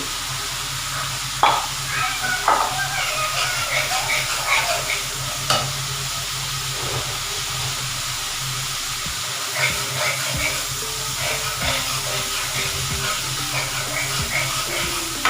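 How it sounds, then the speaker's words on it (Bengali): A spice masala with ground nutmeg, cooked for egg korma, fries in a pan with a constant close sizzle and hiss, punctuated by occasional scraping stirs. "মশলাটাকে আমাকে ভালো মতো করে কষাতে হবে একদম।"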